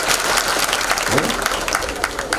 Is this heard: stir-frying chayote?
no